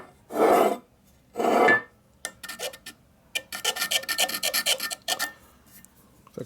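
A knife blade scrapes across an aluminum engine case half from a 1940s Harley-Davidson 45ci WL/WLA, first in two longer rasping strokes, then a run of short, rapid, close-up scratches.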